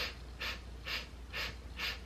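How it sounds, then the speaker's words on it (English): Five sharp nasal sniffs in an even rhythm, each about half a second apart, taken by a patient standing before the imaging machine during a diaphragm sniff test, close and clear. "You basically stand in front of this machine and you just sniff."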